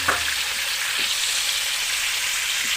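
Chicken pieces frying in hot oil, a loud, dense, continuous sizzle close up with a few faint stirring knocks, no talking.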